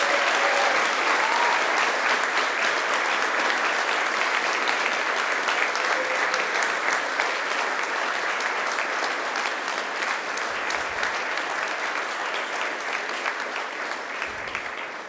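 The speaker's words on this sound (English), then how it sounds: "give them a mighty round of applause" Sustained applause from a large crowd at a university graduation ceremony, steady and loud throughout, fading slightly toward the end.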